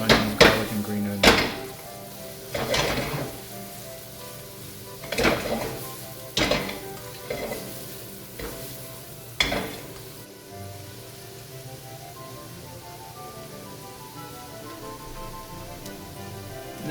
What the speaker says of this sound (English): stir fry them long enough not to burn the onion, garlic, and green onion.